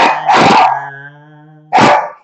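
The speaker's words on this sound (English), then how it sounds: "Damn dog" A dog gives a loud close bark, then a second sharp bark after a short pause, alone with no talk and a fading musical tone ringing between them.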